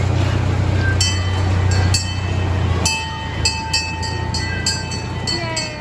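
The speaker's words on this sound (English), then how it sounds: "Watch the train, please." A train rolls past at a children's rail ride, a steady low rumble with wheel clatter and metallic clicks over a broadband wash, heard close and continuous for several seconds.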